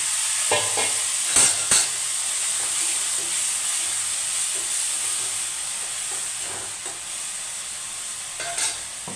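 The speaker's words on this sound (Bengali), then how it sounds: "আদা দিয়ে একটু জল দিয়ে আদাটা ভাজবো।" Ginger sizzles in a pan with a splash of water, added after onions and tomatoes have been fried, making a steady, close frying hiss broken by a few sharp crackles and stirring clinks.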